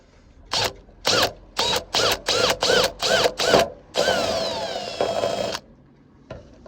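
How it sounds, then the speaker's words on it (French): Bursts from an electric drill bore into an aluminium boat mast while a wiring harness is fitted: about eight short, rapid revving pulses, then one longer sustained run. The sound is close and loud. "Tu veux que je perce pendant que tu tiens ou le contraire?"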